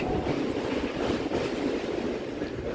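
A train runs on rails past Babughat beside the Ganges riverbank in Kolkata, a steady loud rumble with a continuous rolling hiss and no speech.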